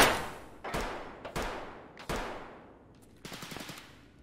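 Gunfire in the Escape From Tarkov shooter game: several sharp, loud single shots each trailing off in a long echoing decay, followed by a quick rapid burst near the end.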